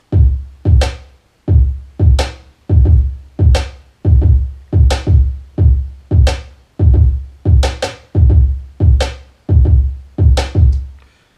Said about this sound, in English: started out with my kick and my snare